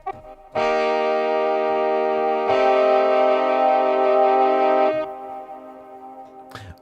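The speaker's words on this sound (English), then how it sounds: "let me reduce this space delay reverb" A sampled Mellotron-style instrument plays sustained chords heavily washed in space delay and reverb, with loud held tones that swell and then trail off in an echoing decay, ending with a brief click.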